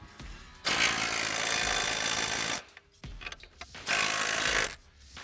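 A 1 1/8 inch battery impact wrench loosens nuts on the soil deflector shield of a Pro-Till 20/26 tillage implement, with two loud, sustained rattling bursts separated by a short pause and some lighter clanking.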